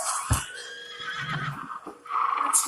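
A cartoon horse whinnies loudly and shrilly, its neigh rising and falling across the clip, with a brief thump near the start and a second whinny burst toward the end.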